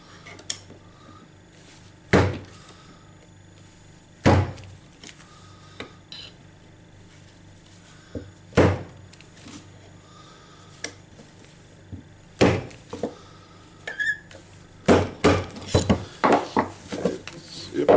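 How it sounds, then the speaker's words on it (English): A hammer strikes a metal punch to drive a gear out of a Makita DHR202 hammer drill during repair: sharp, separate metallic knocks spaced a couple of seconds apart, then a quicker cluster of taps near the end. "Just get it to the gear and punch it with a hammer."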